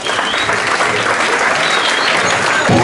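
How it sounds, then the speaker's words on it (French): A theatre audience applauding at a live comedy show, dense steady clapping that fills the room, loud and close throughout. "Vous pouvez l'applaudir."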